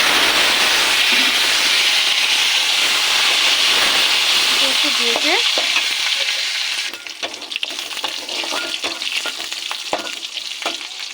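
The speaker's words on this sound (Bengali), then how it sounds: "তেল গরম হয়ে গেছে দিয়ে দেবো বেশি করে কালো জিরে আর দেবো রসুন আর কাঁচা লঙ্কা" Nigella seeds, garlic and green chillies sizzle in hot oil, a loud steady crackling hiss that holds for several seconds, then drops sharply and continues softer with scattered pops and stirring.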